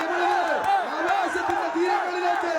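A large crowd roars at a tug of war final at Mambra. Loud, continuous, rhythmic chanting and cheering swell and dip in waves, while a voice talks over the crowd.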